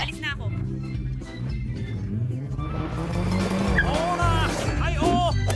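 Toy cars race around a toy racetrack, with squealing tires and revving engines layered over busy, fluctuating background sounds that grow denser and louder toward the end.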